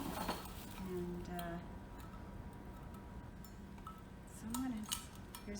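A bent vintage metal souvenir spoon handled among other estate pieces, giving a few light clinks and taps close by, partly under quiet talk and room noise.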